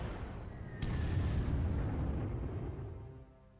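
A bombing attack in the Panzer Corps video game gives a heavy rumbling explosion with a sharp crack near the start, then a long rolling roar that slowly fades.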